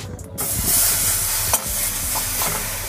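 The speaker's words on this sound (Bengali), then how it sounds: "এই গুড়টা দিয়ে ক্রমাগত নাড়াচাড়া করে যেতে হবে" Jaggery being stirred in a wok over low heat for sesame laddoos, a loud continuous sizzle with scraping stir sounds close up.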